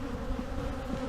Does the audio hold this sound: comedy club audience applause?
no